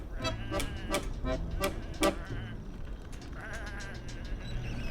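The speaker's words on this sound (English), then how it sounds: "Come on, these are just sheep." Sheep bleat repeatedly in a video game world, several sharp calls in quick succession over a steady low background hum, with quieter bleats continuing afterward.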